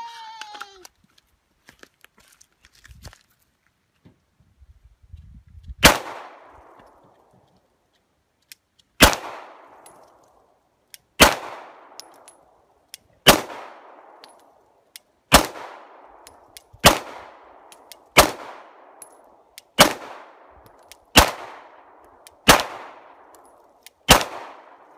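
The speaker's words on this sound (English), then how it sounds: "first couple shots on the Big Gong Show. We're going to be doing full metal jacket" Nine-millimetre 115-grain full metal jacket rounds strike a large steel gong outdoors, about ten sharp cracks each followed by a ringing metallic decay, spaced roughly two seconds apart after faint sounds at the start.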